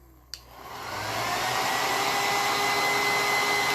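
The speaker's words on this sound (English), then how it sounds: "I'm gonna dry it quickly." A hair dryer used to dry paint starts with a click and quickly rises to a steady, loud blowing whir held close by.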